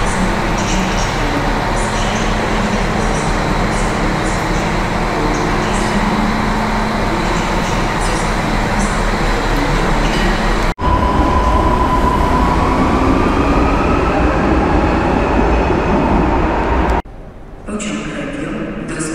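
Steady loud rumble of a Regio passenger train at a station in Wrocław, with a brief cutout and a change in tone near the end as the noise drops.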